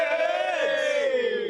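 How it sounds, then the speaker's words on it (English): Arsenal fans on a street in Budapest before a Champions League final, a short loud group cheer and roar of many voices, close by and sustained. "Give us a quick cheer, guys."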